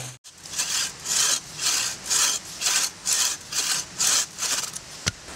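A handsaw cuts through wood while a sawhorse is being built, giving about nine even, rhythmic rasping strokes that are close and fairly loud, with short gaps between strokes.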